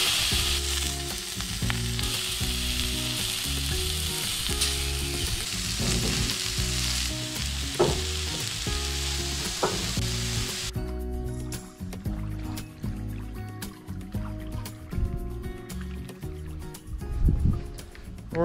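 Food for a camping meal sizzles and crackles steadily on a barbecue at a campsite at sunset, with faint stirring and scraping knocks over the continuous frying hiss and no talking.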